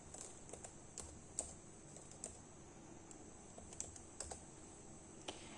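Fingers tap on a computer keyboard in a quiet room, producing faint, irregular clicking keystrokes close by with no talking.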